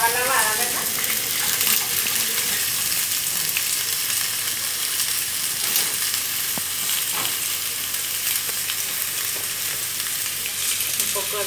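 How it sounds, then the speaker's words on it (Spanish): Pieces of pork rib meat fry in a pan for a soup, producing a loud, continuous close-up sizzle with crackling spits and occasional scraping of a utensil, steady throughout. "La carne la vamos solamente a sofreír."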